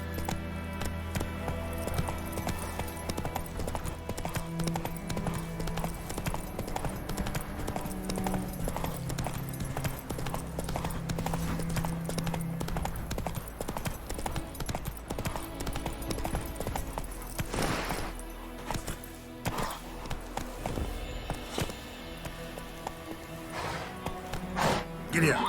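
Hooves of Roach, a horse in The Witcher 3: Wild Hunt, clip-clop along with a steady rhythm under game music and ambience, the hoofbeats running continuously throughout, with a voice speaking briefly over them.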